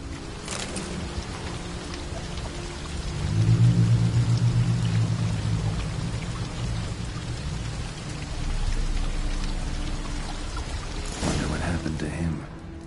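A waterfall in The Witcher 3 that flows upward gives off a continuous loud rushing roar, rising and falling slightly in strength, joined by deep low rumbles partway through.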